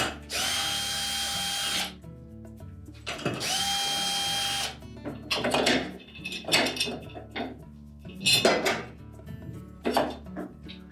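A power drill whirs in two steady bursts while unscrewing parts from a Whirlpool washer brake assembly, followed by metallic clinks and clatter as screws and parts are lifted off.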